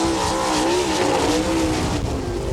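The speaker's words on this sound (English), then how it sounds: "you hear that thing fluttering as he lets off the gas" A sprint race car at an All Star Circuit of Champions dirt track event in Attica, Ohio, roars loudly at a steady distance, its engine fluttering and burbling as the driver lifts off the throttle, alongside a faint tire-skid hiss.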